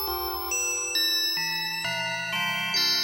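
An Analog Bells preset from a free synth library plays a sequence of bright, ringing bell-like synth tones, each new note struck roughly every half second and sustaining cleanly, with no voices over it.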